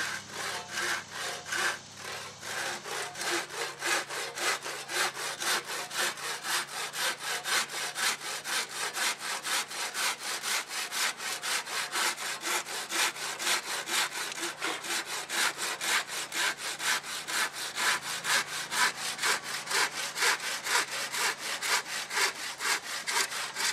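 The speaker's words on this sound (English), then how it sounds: "Good old sharp tooth saw here," A hand saw with sharp teeth cuts through a wooden fence board in a fast, steady rhythm of close, loud rasping strokes that continue without a break, with no talking.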